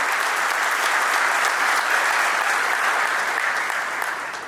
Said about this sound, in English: Big round of applause for all our officers.